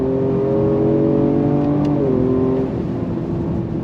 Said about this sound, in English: But the shifts are very quick, whether you're going up or down the gearbox.